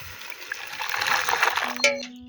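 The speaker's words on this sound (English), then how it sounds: "So I'll pour a little bit in a bowl." Boiling water is poured into a bowl at a camp-oven bread setup, a steady splashing trickle that swells and then stops, ending with a short high ring.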